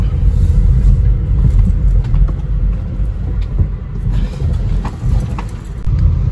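A car engine runs steadily with a low, close rumble and road hum throughout, no talking heard.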